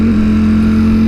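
Ducati Streetfighter V4S motorcycle engine running loud and steady close by, a strong constant hum with a slight rev rise near the start, continuous throughout with no talking.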